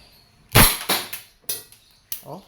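A Crosman SNR 357 airgun firing steel BBs double action, four sharp separate shots, the first loudest, each followed by a brief metallic rattle of BBs.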